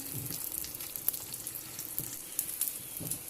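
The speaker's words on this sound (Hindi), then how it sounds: "थोड़े से ऑयल में इनको पकाना है, क्रिस्पी करना है" Flatbread frying in a little oil on a tawa griddle, crisping with a soft, steady sizzle and light crackle, heard alone with no talk.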